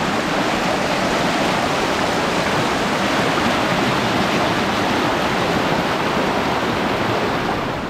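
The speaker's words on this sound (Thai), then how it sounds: "พอแดดออกปุ๊บแบบน้ำใสเลยรู้แต่น้ำไหลแรง" A strong stream at a campsite in Saraburi, running fast and clear after rain, pours out a steady, loud rushing wash of water, close by and unbroken throughout with no voices.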